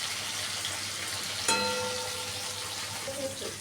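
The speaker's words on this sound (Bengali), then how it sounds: "টমেটোটা দিয়ে আমি আরও একটু ভেজে নেব, যতক্ষণ অবধি টমেটোটা না নরম হচ্ছে।" Potatoes and tomato fry in a pan with steady, soft sizzling throughout, and a brief clink of a utensil partway through.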